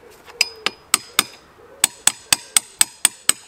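Sharp metallic hammer strikes ring on a wide flat punch as an engine tab washer is flattened during dismantling of a pre-A+ Classic Mini engine, about a dozen close, loud taps in a steady rhythm with a short pause.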